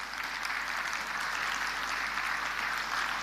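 An audience at a business networking event applauds in a dense, even patter of many hands that holds steady throughout, fairly distant and soft.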